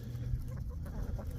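Chickens clucking softly at a farmhouse property, low and muffled under a rumbling background.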